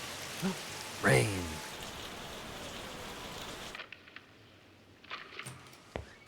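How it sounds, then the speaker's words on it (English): Steady rain in the video game Lost Judgment patters across the first half, joined by a brief whooshing sweep, then cuts to quieter ambience with faint scattered clicks and thumps. "Rain."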